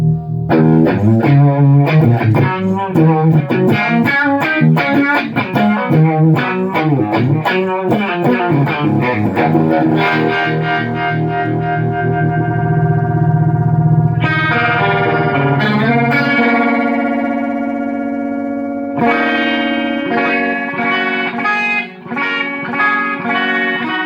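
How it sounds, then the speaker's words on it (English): An electric guitar runs through Bo's Harmonic Trem/Delay pedal on its pendulum tremolo side with the depth set very deep, giving a swirling, univibe-like phaser pulse. Loud strummed chords and sustained notes waver steadily, with no talking. "that's the pendulum tremolo side"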